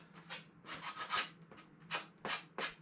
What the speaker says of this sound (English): take yourself a little bit of sandpaper and scuff up that surface